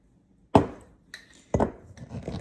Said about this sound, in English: they call it a kraut pounder, and you put it in there and it pushes it down